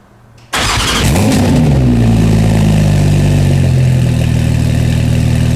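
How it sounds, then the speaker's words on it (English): A Porsche 935 race car cold-starts with a sharp crank, then its engine roars up loudly and settles into a harsh, deep, steady high idle close by. "Take a listen to a cold start from a Porsche 935."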